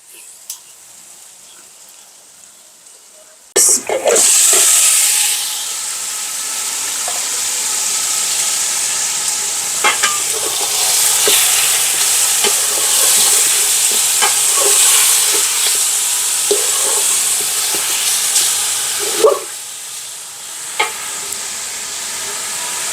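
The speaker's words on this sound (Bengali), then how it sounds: "পেঁয়াজটা একটু ভাজা হোক" Onions fry in a pan for a clove-scented biryani, a loud steady sizzle with stirring scrapes and occasional clatters running almost the whole time after a sudden start.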